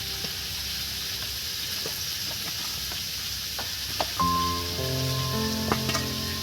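Turmeric-marinated cauliflower frying in a pan makes a soft, steady sizzle with scattered light ticks; partway through, a sustained tonal melody comes in over the frying.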